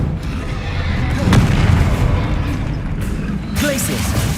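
Descendo spell cast in Hogwarts Legacy, a heavy booming impact with rumbling debris amid loud ongoing combat effects, a voice speaking over the fight.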